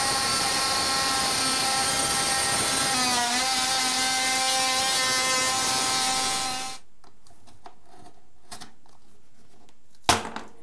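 An oscillating power tool cuts through installed baseboard trim with a loud, steady high-pitched whine that holds for about seven seconds, dips in pitch partway, then stops abruptly, followed by quiet and a brief knock near the end.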